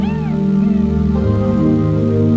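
A female domestic cat meowing close and loud, a few drawn-out, wavering calls in quick succession.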